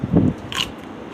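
A crunchy bite into a long hot pepper, close up: one crisp snap followed by a short wet crackle as it breaks, brief and with no talking.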